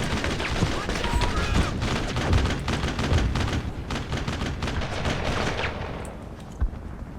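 Sustained gunfire from an upstairs gunner in the video game Brothers in Arms, dense overlapping shots and bursts rattling continuously at high volume throughout.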